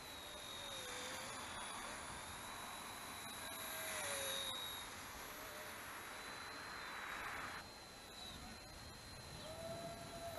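Small Eachine E110 toy RC helicopter flying nearby, a steady high-pitched motor whine with faint rotor buzz, rising and dipping slightly as it maneuvers, with no talking.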